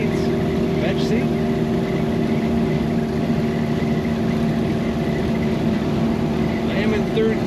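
A 1962 Nash Metropolitan convertible cruises in third gear on a sunny day, its engine a steady, loud, even drone with wind and road noise throughout.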